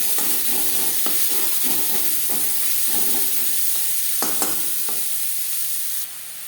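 Chopped onions hit hot oil already tempered with panch phoron and bay leaf for a potol chingri dish, giving a loud, steady sizzle and hiss with intermittent stirring scrapes throughout, no voices.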